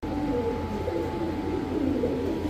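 Pigeons coo steadily and densely at a pigeon market selling Budapest, high-flyer Giribaz and Rajshahi Giribaz birds, a continuous layered murmur of close birds with no talk.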